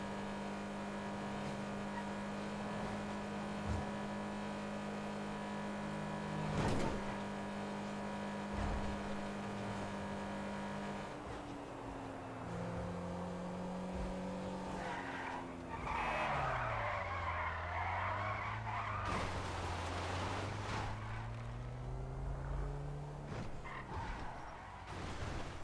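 Electric car in a racing video game driving and skidding, with a steady engine whine and tyre screeches that swoop in pitch over the second half, loud and continuous, no talk.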